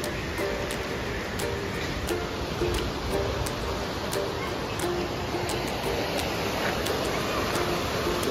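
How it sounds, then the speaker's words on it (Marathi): A river flowing beside an ancient Shiva temple at Ambarnath, a constant broad rushing wash of water with no talk over it. "कशी नदी आहे पण"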